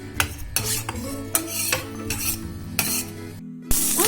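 A spoon scrapes and stirs onions frying in a teaspoon of oil in a pan, giving repeated metallic strokes over a soft sizzle, with a brief gap near the end.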